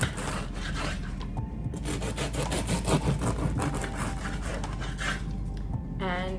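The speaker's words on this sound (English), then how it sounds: "We're going to be cutting some bread, which is right here." A knife saws back and forth through bread, cutting thin slices with a continuous rough rasping and rubbing that runs close and steady across the whole stretch, with short pauses between strokes.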